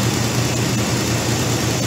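A car engine runs steadily and fairly loud as its throttle position sensor is moved by hand without opening the throttle body, giving an even, continuous drone with no talk.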